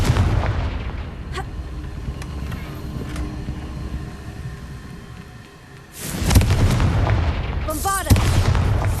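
A Confringo fire spell explodes in the Hogwarts Legacy video game: a rumbling background swells into heavy booming blasts near the end, with a bright whooshing sweep between the impacts.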